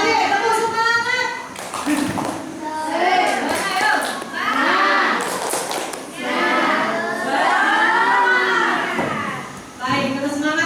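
Children do the 'tepuk semangat' clapping chant, singing the chant in unison with rhythmic claps through most of the stretch, loud and close.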